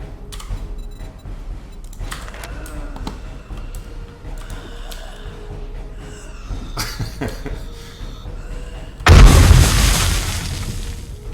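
A bomb goes off in the zombie survival game 7 Days to Die, a sudden loud booming blast with a rumbling tail near the end, after several seconds of quieter game ambience with ticks and clatter.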